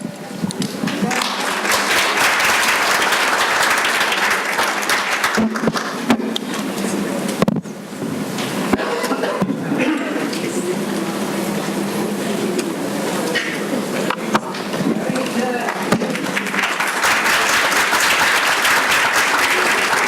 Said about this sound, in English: Let's have applause for our wonderful, wonderful 2nd and 7th graders.